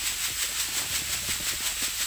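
Water sprinklers hiss in the open world of the video game GTA V, a steady broadband spray with a gentle pulsing rhythm, fairly faint and with no talking.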